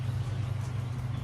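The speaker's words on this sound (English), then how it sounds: "that's the rice machine blasting away in the background there." Rice machine running steadily in the background of a workshop, a low, continuous droning rumble at moderate distance with no talk over it.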